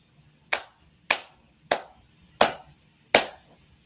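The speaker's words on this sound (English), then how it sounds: "Everyone is actually clapping along with me." A group of people claps along in unison, five sharp, evenly spaced claps about two-thirds of a second apart, loud and close, with near silence between them.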